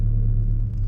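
A Lexus IS300 turbo engine gives a deep, steady, loud rumble from inside the car as the drive begins, with no talk over it.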